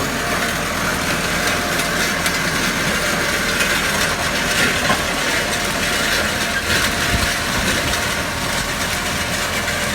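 A Massey Ferguson 390 tractor ploughs sugarcane stumps out of a field with a disc plough, its engine droning loud and steady with mechanical clanking throughout and no voices.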